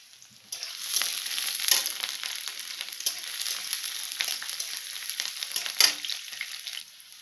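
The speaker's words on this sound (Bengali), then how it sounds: "পেঁয়াজটা ভাজা হয়ে গিয়েছে" Onion frying in a pan gives a steady close sizzle that runs throughout, with a couple of sharper crackling bursts and no voices.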